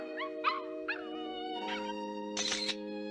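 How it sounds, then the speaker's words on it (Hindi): A cartoon dog in a Hindi-dubbed Doraemon anime gives a few short whimpering yips, then a louder, higher howl near the end, all over steady background music. "अभी मैंने एक डॉग की आवाज सुनी।"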